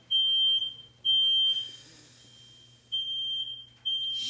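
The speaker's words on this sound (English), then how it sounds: "I just set off all the smoke detectors in my house" Several household smoke detectors blare shrill, piercing electronic beeps in long bursts, two early pulses, a lull, then more beeping, with faint room noise between.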